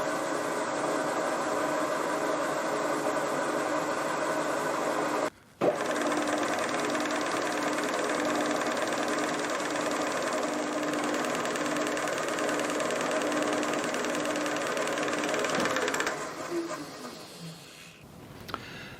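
Boring a hole to depth in a Lynx15 model engine cylinder head with a collet-held cutter: a continuous whirring machine drone with a brief cut-out near the start, then the pitch drops as it winds down at the end.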